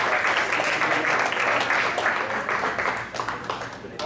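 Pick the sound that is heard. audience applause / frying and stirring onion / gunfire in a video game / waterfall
audience applause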